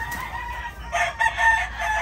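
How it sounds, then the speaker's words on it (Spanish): A semental Golden Monkey rooster crows in a close, loud call with wavering tonal notes, set against a steady low background hum. "Y pues aquí está el gallo."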